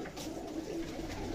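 Soft, low coos from young high-flyer pigeons murmur repeatedly over a faint background hum, fairly quiet and close, with no speech.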